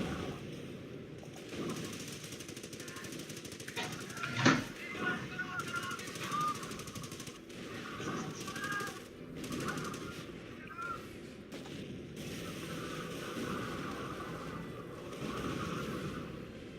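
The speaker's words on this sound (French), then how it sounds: "Pilonnez-les, putain, voilà, ça tire de partout, là." Machine-gun bursts and scattered gunfire with artillery shelling in a Company of Heroes 4v4 battle, a continuous dense barrage with one sharper blast early on, while someone talks excitedly over it in French.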